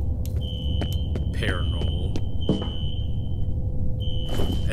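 Fire alarm in the video game F.E.A.R., a continuous high electronic tone with short breaks over low rumble, while someone talks over it.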